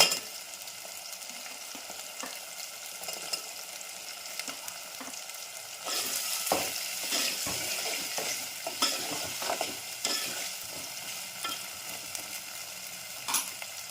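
Potato pieces fry with a spoonful of ginger garlic paste in a curry pan, giving a soft steady sizzle under repeated scraping and stirring strokes, close and moderately loud with no talk.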